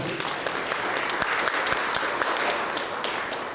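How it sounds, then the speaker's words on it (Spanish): Worshippers at a church service clap steadily together, a loud, even wash of many hands with individual sharp claps standing out, and no talk over it. "Dele palmas al Señor."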